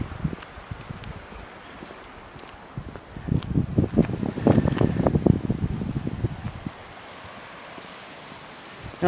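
Rushing floodwater pours over a flooded county road beside a bridge in rural Hardin County, a continuous hiss that swells louder midway, with wind buffeting the microphone.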